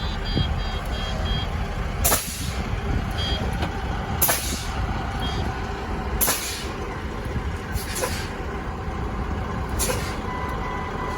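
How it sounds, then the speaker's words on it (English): Inside a truck cab during a brake test, the service brake is pumped repeatedly, releasing five sharp bursts of air hiss at roughly two-second intervals over a low idling engine rumble, close and fairly loud. "I will pump my service brake until my light comes on"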